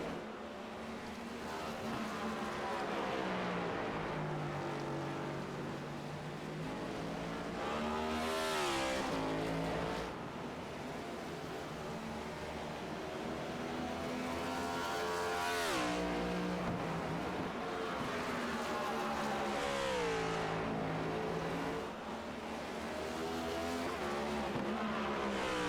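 Race cars circle the track in an HTL Cup Series qualifying session at New York, engines roaring loud and continuous, with pitch rising and falling as individual cars sweep past at regular intervals.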